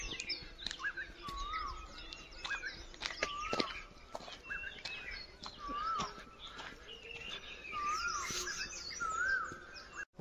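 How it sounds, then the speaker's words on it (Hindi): Birds call and chirp all around on a morning walk through the Jogi Nala valley, with scattered whistles and tweets from several directions, some near and some distant, over soft footsteps and quiet outdoor ambience. "चारों ओर पक्षियों की आवाजें"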